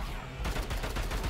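An assault rifle fires in an action video game set in a bunker, giving a fast, steady automatic burst that starts abruptly after a short pause and continues loudly to the end.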